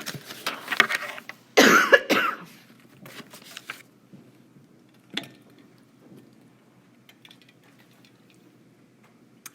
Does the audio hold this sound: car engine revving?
no